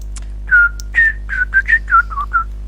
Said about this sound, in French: Siffler dans le micro.